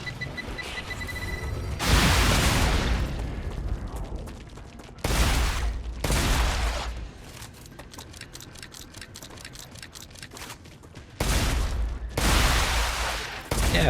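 Gunfire and explosions in the video game StarRupture, several loud bursts and heavy booms separated by quieter stretches of rapid shots and mechanical clicks, with no talk.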